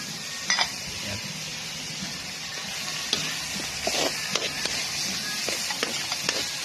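Tomatoes and sardines stir-frying in a pan give a steady sizzle, with a few sharp utensil clacks and scrapes against the pan over the frying.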